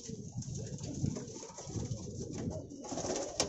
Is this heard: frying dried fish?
no